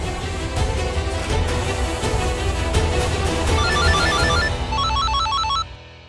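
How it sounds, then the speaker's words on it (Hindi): A mobile phone ringtone plays for an incoming call, a loud repeating electronic melody over a low hum, cutting off abruptly near the end. "फोन आ रहा है।"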